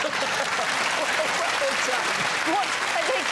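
Studio audience of a comedy panel show clapping steadily and fairly loudly throughout, with a few voices chattering underneath the applause.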